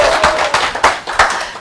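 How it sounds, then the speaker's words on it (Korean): A few close, distinct hand claps from an audience at a talk, irregular and loud, a short burst rather than a full ovation. "다시 한번 큰 박수 보낼까요?"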